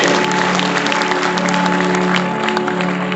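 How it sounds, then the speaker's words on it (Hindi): Clapping from an audience at an RCM business meeting in a hall, a continuous dense patter of many hands over a steady hum, holding level for the whole stretch. "आरसीएम के दीवानों वाली ताली होनी चाहिए।"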